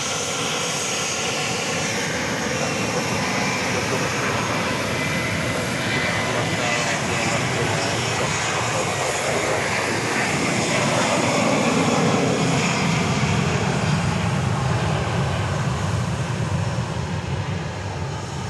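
A Southwest airliner bound for Phoenix aborts its landing and goes around at Dallas Love Field at night, its jet engines producing a loud, sustained roar that swells slightly midway, with a voice talking over it.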